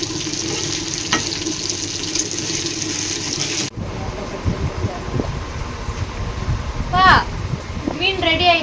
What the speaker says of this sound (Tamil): மீன் வறுத்துட்டேன்